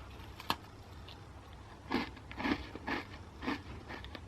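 Several crunchy bites into a hard cookie studded with chocolate chips and desiccated coconut, each one a short crisp crack, close and fairly quiet, with a single sharp snap before them.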